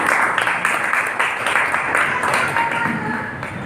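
An audience at an award felicitation ceremony, part of a journalists' committee's first anniversary event in Solapur, claps in a sustained burst of applause with a voice faintly present underneath.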